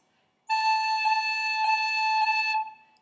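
Bagpipe chanter sounding a couple of taps: a held, piercing reedy note broken by three brief, evenly spaced finger taps, close and clear, with no talking.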